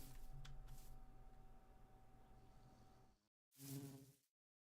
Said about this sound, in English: Hey, bees. Hey, could you get back in the hive?